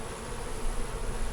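Honey bees buzz steadily around a brood frame just set into a hive box, a dense, close, continuous insect drone with no voices.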